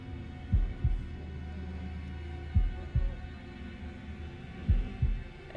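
Video game heartbeat from Man of Medan, a slow low double thump repeating three times, each beat pair distinct and loud over a soft steady hum.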